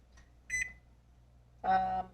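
Electronic oven control panel beeping while the temperature is set to 400, two short tonal beeps separated by a pause, the second longer, heard close and alone over a quiet kitchen hum.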